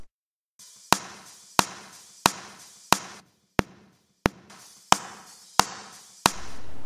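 Processed djent drum hits with heavily boosted highs land as sharp, evenly spaced thuds, about nine in a row, each dying quickly like a ball bouncing on a hard floor.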